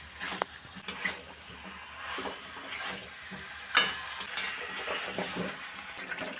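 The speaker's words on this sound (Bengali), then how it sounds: "এবার দিয়ে দেবো ভেজে রাখা আলু। খুব ভালো করে এবার কষিয়ে নেব।" Chicken and already-fried potatoes are sautéed in a pan for a Bengali-style chicken dish, with moderate sizzling broken by repeated spoon scrapes and stirring knocks, one sharper clank near the middle.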